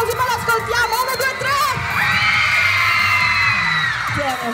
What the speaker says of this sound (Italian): Vi facciamo un'ultima urla